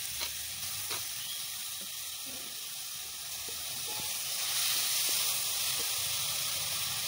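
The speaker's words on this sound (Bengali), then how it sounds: "এবার গ্রেট করে রাখা পেঁপেগুলো দিয়ে দিচ্ছি," Grated papaya fries in hot mustard oil with a soft, continuous hiss and sizzle. Light clicks and scrapes of stirring come through, and the sizzle grows a bit louder in the second half.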